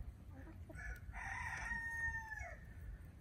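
A rooster on a backyard chicken keeper's flock crows one long, drawn-out call at moderate distance over low background rumble, with a few faint clucks just before it.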